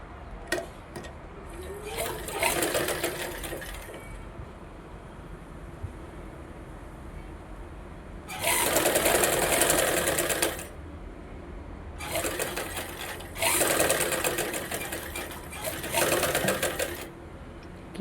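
A sewing machine hems a folded half-inch blouse lining edge in several separate bursts of stitching, close and fairly loud over a quiet room background.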